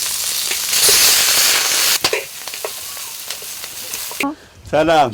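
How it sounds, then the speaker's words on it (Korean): Lamb roasting on an iron griddle at an outdoor night party, a loud steady sizzle and crackle for several seconds, then brief clatters and voices chattering nearby. "양을 한 마리 잡아 철판구이로 파티를 하며"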